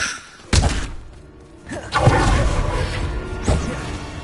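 Hogwarts Legacy spell combat: an Expelliarmus cast and other spell effects make sharp whooshing impacts and thuds, several bursts spaced a second or two apart over a low game ambience.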